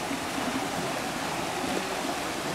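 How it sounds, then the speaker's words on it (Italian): Brenna waterfalls and mountain stream in a gorge above Laveno near Lake Maggiore, a steady broadband rush of falling and flowing water, continuous and even with no voices. "Le cascate di Brenna Monteggia, sopra l'Aveno."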